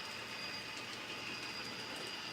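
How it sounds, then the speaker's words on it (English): Four model trains, including an Amtrak and a new bi-level set, running together on a home layout, giving a steady, continuous rolling rumble with faint clicking of wheels on track and no voices. "We've got 4 trains running right now."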